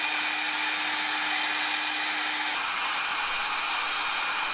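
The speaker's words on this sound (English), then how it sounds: "That's why he's grinding the crack out." Angle grinder steadily grinding a crack out of an antique metal piece before welding, a loud continuous whine with a hissing wash of abrasive noise that holds unbroken from start to finish, with a tone shift partway through.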